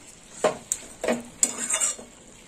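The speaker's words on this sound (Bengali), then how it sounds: "একটু নেড়ে চেড়ে নেবো।" Vegetable chorchori being stirred in a pan with a utensil, giving a handful of soft scraping clinks spread over a couple of seconds, close and fairly quiet, with no talking.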